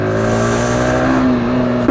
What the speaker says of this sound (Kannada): ಸ್ವಲ್ಪ ರೇವ್ ಮಾಡೋಣ